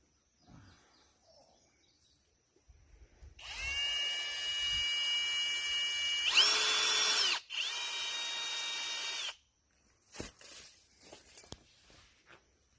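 Whirring drill driving a submersible water pump used to draw water for cleaning a rented tractor, running in bursts of several seconds with pitch changes, stopping and restarting, close by with light handling noises between.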